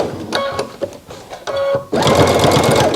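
A sewing machine stitches a face mask, first in short stop-start bursts for back stitching and then in one loud, steady run close by.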